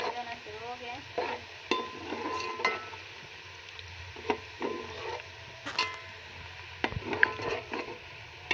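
Onions frying until brown in a pan, with a faint continuous sizzle and soft intermittent scrapes and knocks of stirring, heard close and quiet.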